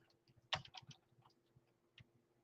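Faint, irregular keystrokes tap on a computer keyboard in short bursts over a low steady hum, with a sharper cluster of clicks near the start and a lone tap later.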